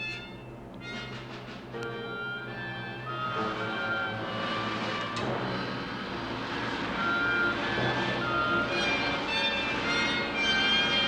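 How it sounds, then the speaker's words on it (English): A human centrifuge spins during a 1960 Project Mercury astronaut test, a steady mechanical hum and whine that builds into a sustained loud roar of machinery, with no voices. "The weight of 8 gravities will thrust upon him as he rides the human centrifuge."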